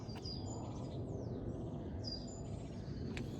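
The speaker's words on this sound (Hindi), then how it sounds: "पक्षियों की आवाज़ शायद आपको आ रही है" Birds outdoors in the UK on a sunny, breezy day give a few faint, thin chirps and tweets from a distance over a steady low background rush.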